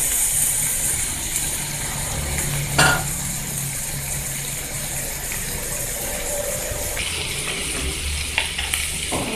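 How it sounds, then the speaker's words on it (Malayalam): Green chillies, garlic and curry leaves sautéing in a hot pan for a moong dal and drumstick leaf fry, giving a steady close sizzle with occasional stirring scrapes and clinks of a utensil throughout. "ഇതിലേക്ക് ആവശ്യത്തിന് പച്ചമുളക്, വെളുത്തുള്ളി, പിന്നെ കറിവേപ്പില ഇത്രയും നമ്മൾ ഇട്ട് നല്ലതായിട്ട് സോട്ട് ചെയ്തെടുക്കണം"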